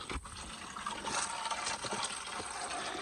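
Water spills over the brim of a tank in a Western Ghats village, a steady, faint splashing and gushing stream running continuously without pause.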